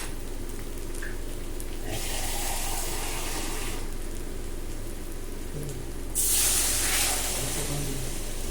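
Water poured into a pan of fish masala for pomfret curry, producing a sizzling hiss that surges in bursts, loudest near the end.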